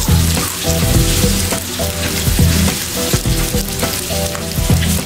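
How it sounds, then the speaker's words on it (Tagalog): Crispy egg chicharon frying in hot oil gives a loud, steady, close sizzle that runs unbroken throughout, with faint stirring scrapes woven in. "Pinirito natin."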